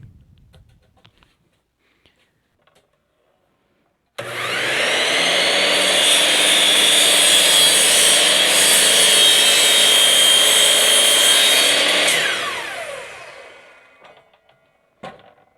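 Saw cutting wood pieces for a Texas star: the blade spins up sharply, whines steadily through a sustained cut for about eight seconds, then winds down, with a faint knock afterward and quiet before.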